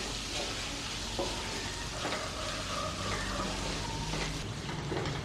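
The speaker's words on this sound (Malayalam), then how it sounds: "ഉള്ളി ഒന്ന് വഴണ്ടി വരുമ്പോൾ തക്കാളി ഇട്ട് കൊടുക്കാം." Chopped onion and tomato sautéing in oil in a pan, with a continuous loud close sizzle and light stirring scrapes throughout.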